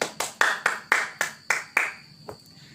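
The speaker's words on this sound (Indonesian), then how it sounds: "Berikan tepuk tangan kepada dia." Sharp, separate hand claps in a classroom, about seven in quick, even succession, then one softer clap after a short pause. The sound is close and there is no talking.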